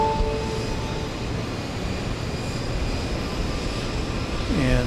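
A Boeing 787-8 airliner bound for Tokyo Narita lines up at Houston Intercontinental airport, with a loud, steady engine roar and rumble filling the whole stretch. No talking is heard over it.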